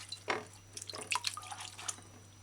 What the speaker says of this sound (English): Put it in the water. Use your fingers. Rub the skin of the mountain soursop fruit clean.